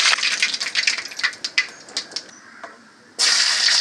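Mustard seeds crackling and popping in hot oil in a kadai, a close, fast run of sharp spits and pops that thin out briefly before a loud steady sizzle returns.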